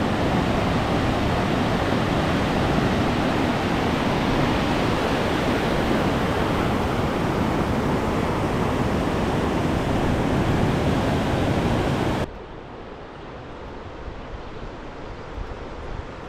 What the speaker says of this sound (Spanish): Allá se escucha el río.